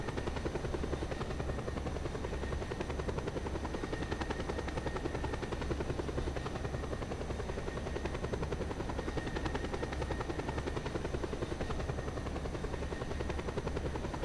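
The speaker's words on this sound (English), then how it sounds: "It's only a kilometer away, so it's a good helicopter ride." Helicopter in the video game Just Cause 2, its steady rotor chop and engine whine droning continuously and evenly throughout, fairly faint and unbroken.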